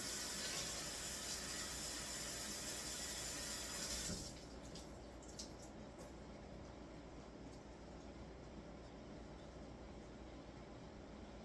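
Lettuce and tomato rinsed under a running kitchen tap, a steady loud water rush that cuts off abruptly partway through, leaving quieter room sound with a few faint knocks and clinks.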